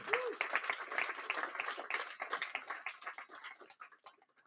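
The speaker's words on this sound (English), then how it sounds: "they deserve a clapping for that" A crowd at a product launch event in a London club claps. The applause is moderate and dense, with some voices mixed in, and it thins out and fades to quiet near the end.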